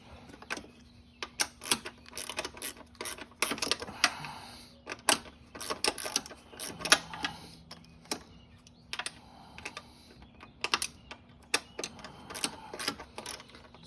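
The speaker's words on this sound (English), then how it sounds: "So let me get the wrench again." Ratcheting wrench clicks in quick, uneven bursts while loosening a bolt on the engine guard of a Honda Dax125, close up with brief pauses between the turns.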